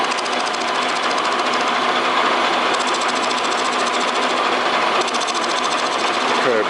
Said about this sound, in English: I take this tool, the square nose roughing gouge, I guess they call that, and just carefully